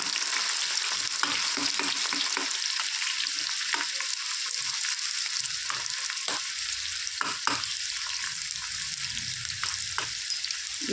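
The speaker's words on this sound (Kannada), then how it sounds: "ಈರುಳ್ಳಿ ಫುಲ್ಲು ಡ್ರೈ ಆಗಿಬಿಡಬೇಕು ಮತ್ತು ಕಲರ್ ಚೇಂಜ್ ಆಗಿಬಿಡಬೇಕು ಅಲ್ಲಿವರೆಗೂ ಚೆನ್ನಾಗಿ ಫ್ರೈ ಮಾಡ್ಕೊಳ್ಳೋಣ" Onions fry in hot oil for potato dum biryani, a steady loud sizzle throughout with scattered scraping stirs and crackles, no voices.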